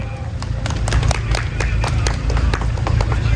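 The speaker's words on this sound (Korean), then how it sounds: "박수로 모시겠습니다." A crowd applauds to welcome two speakers at an outdoor press conference, a steady patter of many hands clapping at moderate loudness, with some voices mixed in.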